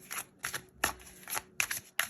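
Tarot cards are placed and slid onto a table in a series of soft papery slaps and swishes, close up and irregularly spaced.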